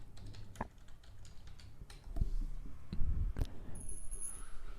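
Typing on a computer keyboard: a quick burst of light keystroke clicks, some sparse and some clustered, fairly close against a low steady background hum.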